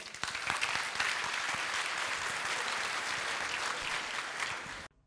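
Graduation ceremony audience clapping for a master's marketing diploma event, a thick continuous round of applause lasting about five seconds before cutting off abruptly.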